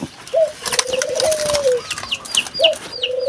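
Repeated bird calls, cooing notes and sharp chirps ringing out close by, several overlapping calls in quick succession with no talking.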